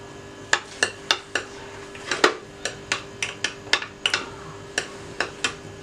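Black pepper powder being stirred into mayonnaise, a spoon clinking sharply against a bowl in a steady run of about fifteen close, bright taps, with no talking.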